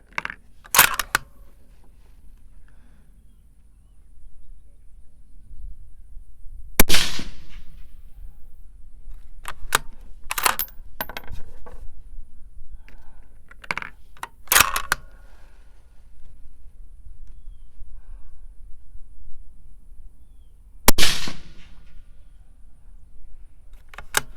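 Several sharp .223 precision rifle shots firing 77 grain TMK handloads with 8208 XBR powder, spaced seconds apart as single loud cracks with quiet gaps between, no talking.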